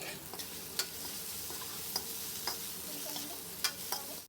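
Cauliflower gobhi frying in a pan with tomato sauce, coriander and pepper, giving a steady close sizzle with occasional sharp ticks of a utensil against the pan.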